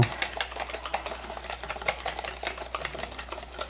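A spoon or whisk stirs dough ingredients for simple one-egg doughnuts in a bowl, producing soft, quick rhythmic scraping and clicking strokes at a steady close pace, fairly faint.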